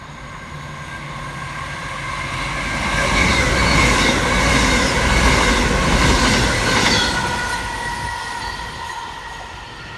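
British Rail class 221 unit 221129 on the slow line through Heaton Chapel station on a Southampton Central to Manchester Piccadilly service, rumbling past with a steady roar of wheels that swells mid-pass, then eases away.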